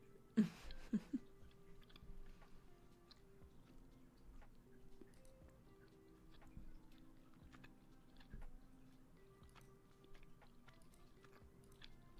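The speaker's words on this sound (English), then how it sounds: "I'm going to be done eating during the stream after this because I feel like most of this stream has been me just chewing and reading chat" A person chewing food while eating, with a few sharper crunchy bites near the start followed by soft, quiet intermittent mastication sounds over a low steady background.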